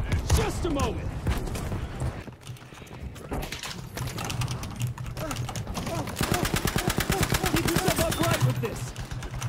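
Rapid gunfire in the Battlefield V video game, with fast automatic bursts that grow denser toward the end, under players talking.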